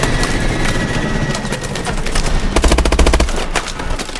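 Game gunfire in Call of Duty: Advanced Warfare, dense automatic bursts over a constant battle din, with a loud rapid volley near the end and scattered single shots around it.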